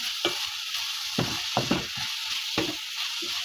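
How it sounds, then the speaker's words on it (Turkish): Minced meat with spices and salt frying in a pan while being stirred, a steady bright sizzle throughout with several scraping stirs and soft knocks, close and alone. "Karıştırıyorum."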